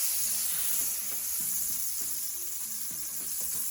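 Cuban sandwich sizzling on a Lodge cast iron griddle, a steady, even frying hiss running throughout with faint low clicks and taps beneath, no voices.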